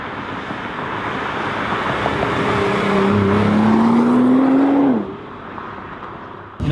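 A 2017 Nissan GT-R in blaze metallic with a titanium exhaust, driving through California: a loud, steady engine drone that rises in pitch as it pulls, then drops off sharply as the throttle lifts.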